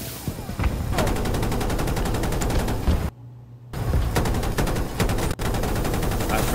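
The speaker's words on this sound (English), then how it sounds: "if this hovercraft doesn't have not one Gatling gun, not two, but it has three" Three Gatling guns on a hovercraft in the video game Battlefield 2042 fire in a loud, continuous, dense rattle that drops out briefly, then resumes hammering steadily, with a short break near the end.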